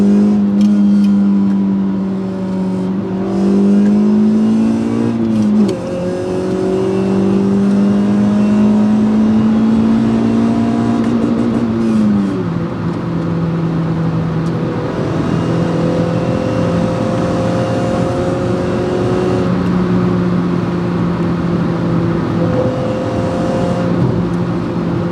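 A 2000s Suzuki Swift Sport I (ZC31S) with a stainless steel exhaust accelerates hard through the gears, the engine note rising in pitch, dropping at two shifts, then climbing again, loud and close from inside the car.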